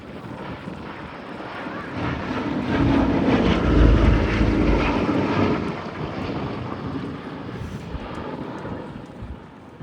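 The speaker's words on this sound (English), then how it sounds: "This aeroplane continuing to fly on as a living memorial to the US 8th Air Force" WWII American aircraft flying past at the Abingdon Air & Country Show at Dalton Barracks, a broad engine roar swelling toward mid-pass then fading, with wind buffeting the microphone.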